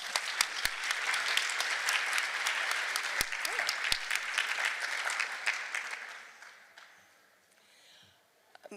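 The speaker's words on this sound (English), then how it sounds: "So give yourselves a big round of applause." Conference audience applause at a Women in Agile gathering, a dense steady wash of many hands clapping at moderate distance for about six seconds before fading away into near silence.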